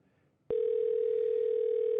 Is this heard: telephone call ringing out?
yes